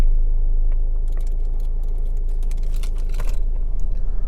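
Two keys for a 2019 Peugeot 508 jangle and clink in quick light rattles close by, over a steady low rumble from the car.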